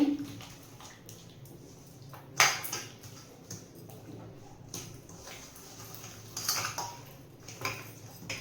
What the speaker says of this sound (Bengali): ছোটোটাতে মাখাতে অসুবিধা হচ্ছিল তাই একটা বড় গামলা নিয়ে আমি ভালো করে মাখিয়ে নিচ্ছি